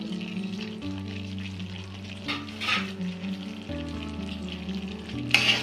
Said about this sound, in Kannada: ಈಗ ಡ್ರೈ ಫ್ರೂಟ್ಸ್ ಹಾಕ್ಕೊಳಕತ್ತೀನಿ ಹುರಿದಿಟ್ಕೊಂಡಿದ್ವಲ್ಲ ಇವಿಷ್ಟನ್ನು ಹಾಕ್ಕೊಳಕತ್ತೀನಿ